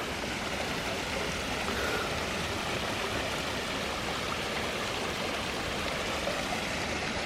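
A waterfall pours steadily, a constant broad rushing wash of water with no breaks, fairly close and even in level throughout.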